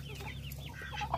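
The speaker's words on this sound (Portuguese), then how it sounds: "Porque ela é uma espécie de galinha grande, sabe?" A large-breed hen clucks softly and close by in a farmyard, a short run of low, throaty clucks with no talking.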